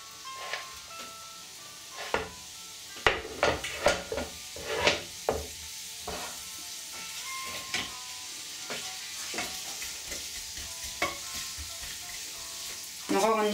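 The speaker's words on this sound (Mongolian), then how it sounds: "Эхлээд сонгоно шарна." Onion sizzles and fries in a pan for a vegetarian ratatouille tart, a steady crackling hiss broken by repeated sharp clinks and scrapes of stirring utensils against the pan, with no talk.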